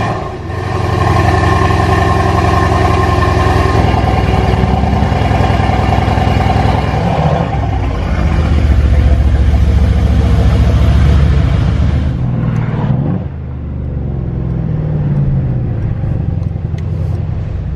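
A Mercedes-Benz car engine hums steadily while driving, with a loud, continuous low rumble. The engine note changes pitch partway through, then the sound dips briefly and settles into a quieter drone.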